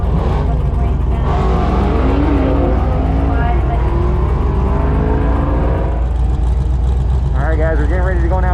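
A Jeep accelerates hard at a drag race, its engine roaring loud and close with rising revs over steady crowd and track noise throughout.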